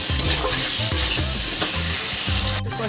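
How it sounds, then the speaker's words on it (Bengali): Green chillies and chopped tomato sautéing in a pan for a fish kalia: loud, continuous sizzling close up with rhythmic scraping strokes of a spatula, no voices. "ভালো করে আরেকটু কষিয়ে নেব 5 মিনিট।"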